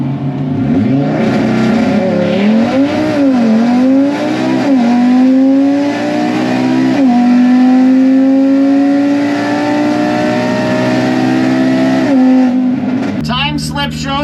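An Audi RS3 launches hard on a drag strip, its engine roaring loud and close with rising, shifting revs that sweep upward through several gear changes before cutting off abruptly near the end.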